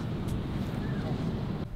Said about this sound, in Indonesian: Ternyata angin cukup kencang